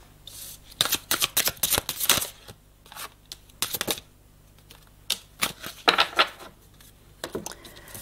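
Tarot cards are shuffled and drawn in close, quick bursts of riffling and flicking. Sharper card snaps come between short pauses.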